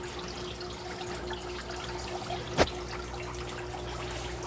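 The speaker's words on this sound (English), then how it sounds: "The water comes in, flows over through the trough." Water in an aquaponics system trickles steadily through a grow trough, a soft continuous flow with one brief, sharper splash partway through and no voices.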